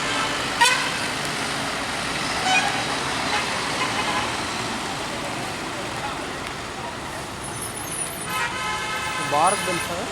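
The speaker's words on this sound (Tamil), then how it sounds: "பாரத் பென்ஸ் பாரத் பென்ஸ் ஜெயம் வண்டி செல்கிறது." A Bharat Benz bus goes by on a road amid general traffic rumble, with brief horn toots near the start and a tonal horn blast toward the end. Someone talks over the passing.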